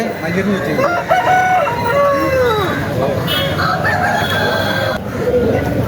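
Several roosters crow at a Saturday country chicken market, their calls overlapping near and far amid a busy crowd murmur, with people talking throughout.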